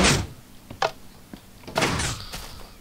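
Automatic redstone door in Minecraft, several separate mechanical thunks and sliding clunks in quick succession, then a longer grinding burst near the end, moderately loud and close with no talking.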